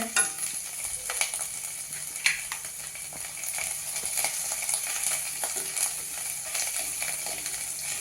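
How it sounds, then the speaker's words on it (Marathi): Finely chopped garlic and ginger fry in hot oil with a steady, bright sizzle, and occasional soft clicks and scrapes of stirring sound close by throughout. "आता ते तेल गरम झालंय त्यामध्ये ह्या लसणीच्या पाकळ्या बारीक चिरलेल्या आणि आल्याचे पीस बारीक चिरलेले ते घालूया"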